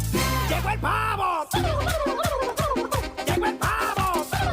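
Loud, near turkey gobbles in quick repeated rattling bursts, coming one after another over a busy rhythmic backdrop.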